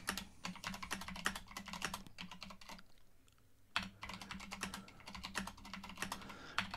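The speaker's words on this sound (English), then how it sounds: "And just sit down and start typing." Keys on a computer keyboard clatter in steady, close bursts of typing, pausing for about a second midway before the rapid tapping resumes, with no voices.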